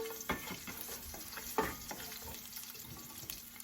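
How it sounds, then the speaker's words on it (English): Garlic roasting in a pan on low heat makes a faint, soft sizzle, broken by a few light scraping stirs and clinks, heard close with no voices. "I'm going to roast the garlics for about 30 seconds on low heat."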